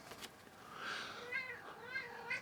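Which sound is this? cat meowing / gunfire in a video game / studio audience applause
cat meowing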